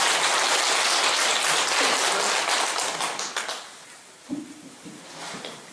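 A temple congregation at a Buddhist dharma assembly claps for a monk, dense loud applause that fades after about three seconds, leaving a few scattered claps and quiet room sound.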